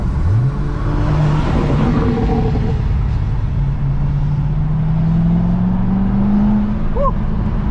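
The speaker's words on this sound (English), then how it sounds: "Downshift a second, just do a little baby hit." Manual C6 Corvette downshifting and accelerating hard, a loud sustained engine roar that rises steadily in pitch from inside the car, with a brief voice near the end.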